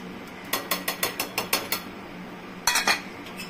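A spoon or ladle knocks against a metal pot while spice paste is stirred into jackfruit-seed dal, giving a quick run of sharp, evenly spaced clinks, then a pause and a second short burst.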